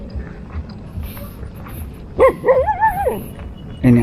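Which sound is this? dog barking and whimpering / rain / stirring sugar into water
dog barking and whimpering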